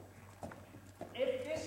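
A horse being ridden at a walk lays down soft, spaced hoof clip-clops on the ground, faint and close, while a person speaks over them.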